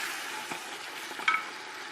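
Potatoes fry with spices in a pan for Algerian rechta, giving a soft, steady sizzle with a brief stirring scrape near the middle, heard close and alone.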